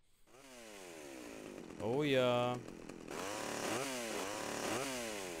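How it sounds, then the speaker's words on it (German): A chainsaw in the video game GTA: Vice City revs in rising and falling whines, with a louder burst partway through as it is swung. Someone speaks briefly over it. "Ein bisschen mit der Kettensäge rumfuchteln."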